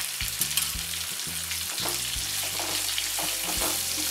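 Amla (Indian gooseberries) frying in a pan with chili powder for a sweet and sour pickle, a loud close sizzle broken by repeated scraping stirs and clattering of the spoon against the pan.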